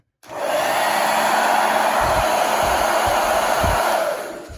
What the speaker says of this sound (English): might get my blow dryer out and give him a quick little blow dry here